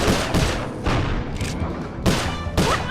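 Rapid bursts of game gunfire from Sly Cooper: Thieves in Time ring out in repeated loud volleys with short gaps, dense and booming, with no talking over them.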